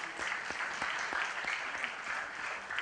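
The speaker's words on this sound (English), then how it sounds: "Please, a round of applause again." A crowd at a business exhibition youth session gives a round of applause, dense continuous clapping at even volume for a few seconds with no talking.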